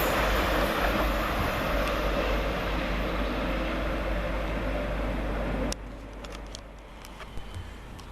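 Class 360 units 360 115 and 360 117, working a Corby to London St Pancras International service, thunder through St Albans City station as a loud, steady rumble that cuts off abruptly, leaving quieter platform ambience.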